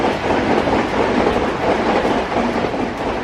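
A running train rolls steadily along the rails, a loud, continuous rumble and rattle of wagons with faint clickety-clack and no pauses.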